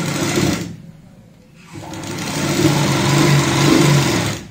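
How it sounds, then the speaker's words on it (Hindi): Sewing machine stitching a trim strip onto a designer jacket worn over a kurti, its steady whirring motor running close and loud, stopping briefly partway through before resuming. "यहाँ पे जो हमने ओरे वाली पट्टी लगाई है इसके ऊपर सिलाई लगाएंगे।"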